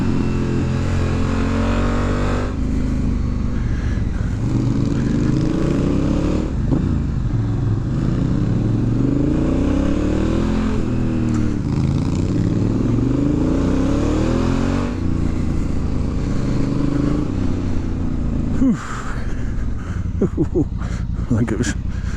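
Honda Africa Twin motorcycle riding a winding mountain road in the Canary Islands, engine droning and repeatedly revving up and down through gear changes, close and loud throughout, with a voice talking over it.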